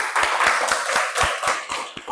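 A classroom of pupils claps hands together for a student-teacher's lesson, a steady rhythmic burst of near, loud unison claps with a busy, clattering texture.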